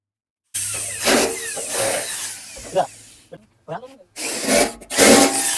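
A power tool drives bolts while fitting a new diesel tank on a vehicle, with a loud whirring burst, short pauses, then further runs nearby; a voice talks over part of it.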